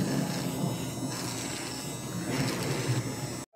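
Electric hair clippers buzz steadily through a haircut, a close, continuous humming drone with slight fluctuations that stops abruptly near the end.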